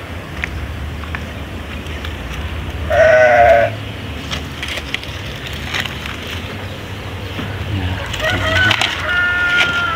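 A sheep in a pen gives a short, clear bleat partway through. Steady farmyard background noise continues around it, with faint shuffling and other animal sounds near the end.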